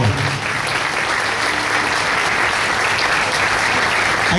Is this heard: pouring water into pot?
no